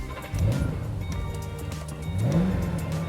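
A 650-horsepower car engine with an added air intake and a MagnaFlow 2.5-inch exhaust starts up close by, then idles and revs in two rising surges. No one speaks.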